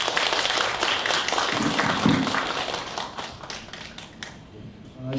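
Audience applause at an anniversary ceremony of a cultural center in Incheon: dense, sustained clapping from a crowd that fills the whole stretch and gradually thins toward the end.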